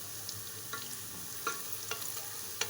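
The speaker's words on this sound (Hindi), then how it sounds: "ऑयल डाल लिया है और प्याज ब्राउन करने के लिए डाल दी है।" Onions browning in hot oil for sarson ka saag, a low steady sizzle broken by several soft stirring scrapes and clinks, heard close and fairly quiet with no talking.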